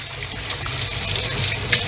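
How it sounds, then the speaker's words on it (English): Tap water runs in a steady, close gush while hands are rinsed at a kitchen sink during cooking of sausages, peppers and onions, continuous for about two seconds with no talk. "Let me rinse off my hands."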